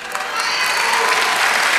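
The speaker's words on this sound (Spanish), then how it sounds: "Dar palmadas y aplausos." A church congregation claps and applauds together, a dense, loud, sustained wash of hands filling the room for the whole span.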